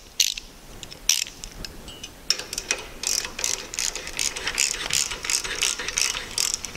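Ratcheting wrench clicking rapidly as it tightens a nut on the bolt of a longarm quilting frame pole end assembly, a close series of sharp metallic ratchet ticks in uneven bursts, with no talk.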